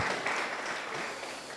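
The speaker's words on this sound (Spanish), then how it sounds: "Vamos a darle un fuerte aplauso al Señor para que despierten" Church congregation applauding together during a service, a dense steady wash of clapping that stays loud throughout and tapers slightly at the end.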